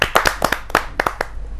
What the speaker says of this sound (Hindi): मैं जोरदार तालियों के साथ आमंत्रित करना चाहता